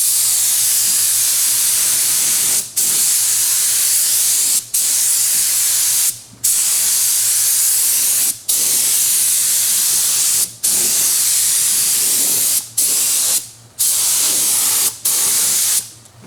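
A spray gun hisses steadily as it sprays thick Rust-Oleum paint while work continues on a 1948 Chevy Fleetmaster. The loud, continuous spray breaks off in short pauses about every two seconds as the trigger is released and squeezed again.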